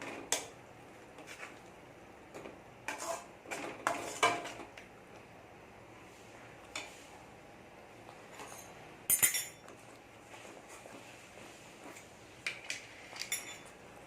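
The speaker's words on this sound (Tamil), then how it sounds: "இப்போ நல்லா கலந்து விட்டுருங்க எல்லா இடமும் சேர்ற போல்" Gongura dal stirred in a pot to mix it evenly: irregular clusters of metal spoon scrapes and clinks against the vessel, close and fairly quiet, separated by brief pauses, with no talk.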